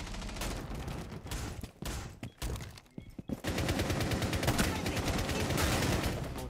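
Gunfire in a video game: bursts of rapid automatic shots broken by short gaps, then a long sustained volley, moderately loud with a voice in between.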